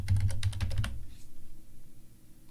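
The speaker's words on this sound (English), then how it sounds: "Make sure I type that properly." Quick keystrokes on a computer keyboard while entering a username in an Ubuntu virtual machine setup: a short burst of about eight close, crisp clicks, then quiet.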